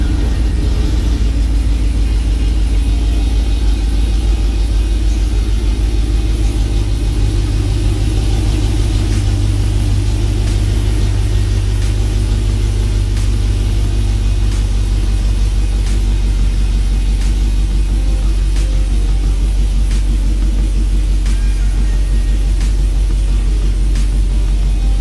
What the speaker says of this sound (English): So we just got the truck pulled in